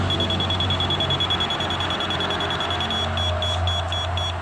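Rapid repeated high electronic beeping from a laser level receiver on a grade rod at a construction site, steady pulses that quicken near the end, over a low background rumble.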